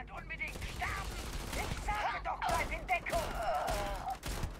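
Pistol shots ring out in rapid bursts during a Starfield game session, heard close over continuous game sounds with someone speaking throughout.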